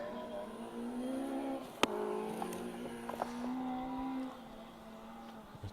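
A 1600 Ford Escort Mark 1 rally car holds a steady engine note on a stage, fairly distant and moderate in level, with a sharp click or knock partway through and small pops near the end.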